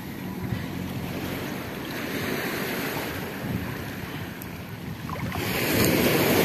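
Sea waves and surf at Lazarevskoye beach on the Black Sea in October, a continuous rolling wash of water with wind buffeting the microphone, swelling louder toward the end, no voices.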